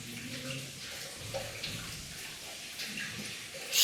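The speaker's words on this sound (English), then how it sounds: "There's water coming down. I can hear the water coming down." Water trickling down inside an old gold mine in the Alaska wilderness, a steady, soft, continuous wash of flowing water heard from nearby, with no talking over it.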